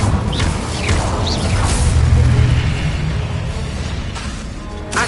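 Incendio fire spell cast in Hogwarts Legacy, a soft whooshing, roaring burst with a low rumbling swell that peaks near the middle and fades, accompanied by faint magical chimes.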